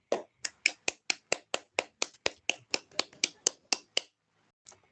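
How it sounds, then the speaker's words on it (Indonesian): Students in a classroom give a round of applause, about seventeen sharp evenly spaced claps in a quick steady rhythm, then a pause and one last faint clap, close and clear. "Tepuk tangan dulu untuk kalian"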